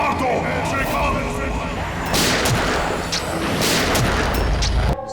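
Gunfire in a Hindi TV crime drama scene, with loud bursts and booms over dense dramatic background sound throughout, and a brief voice near the start.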